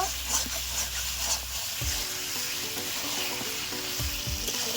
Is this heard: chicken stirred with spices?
yes